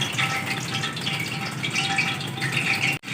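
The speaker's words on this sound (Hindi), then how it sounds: "हल्की हल्की बरसात हो रही है" Light rain pattering on a plastic cover stretched over an outdoor cooking spot, a dense, steady hiss of drops with a brief dropout near the end.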